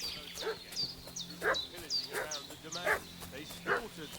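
A dog in a video game barks in a string of sharp, yipping bursts, about six barks at an uneven rhythm, heard somewhat at a distance over a low ambient backdrop.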